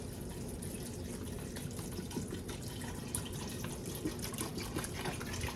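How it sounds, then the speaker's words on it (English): Water runs steadily from a tap into a pot of cooking beans, a continuous close splashing pour lasting several seconds with no talk. "I'm gonna put some water in here."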